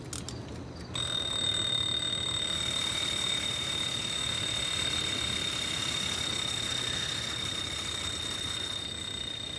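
Alarm clock on a chook feeder timer going off, a sudden, steady, continuous high-pitched ringing that starts after a brief pause and holds loudly throughout.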